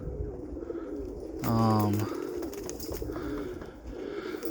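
Roller pigeons coo in a loud, close burst of about half a second, with faint bird calls before and after over a steady outdoor background on a cool day in Minnesota.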